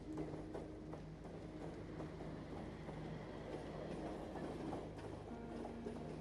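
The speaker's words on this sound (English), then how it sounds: "The train continues its steady movement." A train rolls steadily along the rails with a continuous low rumble and faint rhythmic clatter, heard alone and unbroken throughout.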